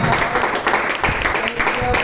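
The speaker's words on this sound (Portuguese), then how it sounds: "Vamos aplaudir Jesus, mas com muita alegria" A church congregation applauds, a dense wash of clapping that fills the room, with a voice speaking over it.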